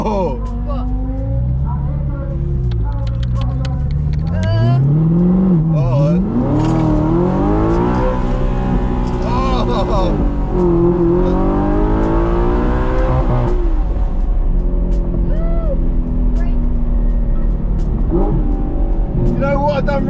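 A car accelerates hard at a hypercar event, its engine rising in a long climbing rev that swoops up and down. Excited voices talk and shout over it throughout.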